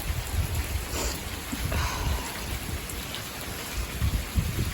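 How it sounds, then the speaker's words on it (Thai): Steady rain patters outdoors with a soft, even hiss and low rumbling gusts, no voices present. "โอ้ยฝนตก"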